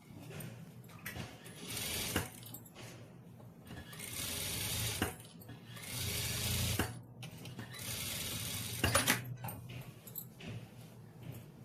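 A sewing machine runs in several bursts of a few seconds each, stitching the turned-back margin of a beaded neckline, with a soft mechanical whir and brief pauses between runs.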